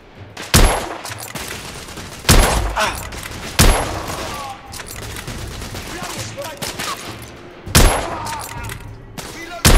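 Gunfire in a shooter video game: loud, sharp bursts of shots hitting at irregular intervals, several distinct volleys with quieter battle noise and game voices between them.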